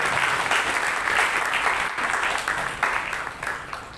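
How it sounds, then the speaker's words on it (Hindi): Audience applause greets a speaker being introduced at an awards and teacher-honouring function, a dense, steady clapping that fills the hall at close range for several seconds with no talk over it. "जोरदार तालियों से उनका स्वागत करें।"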